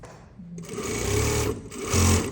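An electric sewing machine stitches a sweatshirt sleeve, its motor whirring in close, steady bursts that speed up and slow down, with a short pause partway through.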